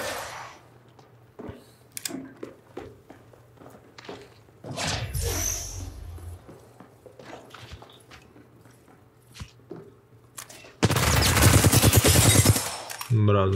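Gunfire in Apex Legends: scattered sharp shots and short bursts through the first half, then a loud, dense volley near the end, with faint voices at times.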